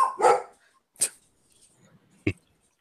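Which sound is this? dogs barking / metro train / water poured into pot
dogs barking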